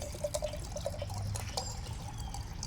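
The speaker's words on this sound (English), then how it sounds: "Pouring water." Water pours and drips into a glass in a quiet room, soft trickling with a few light splashes and clinks, faint and close.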